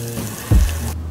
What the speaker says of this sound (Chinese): 你们看看这滋滋冒油的表面